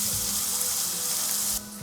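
Oyster mushrooms frying in a hot pan, giving a loud, steady sizzle close up that hisses continuously and eases slightly near the end, with no talking.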